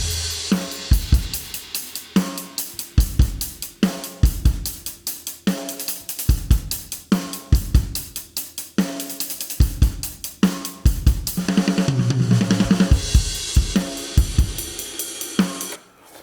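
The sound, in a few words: soloed drum tracks from a rock song mix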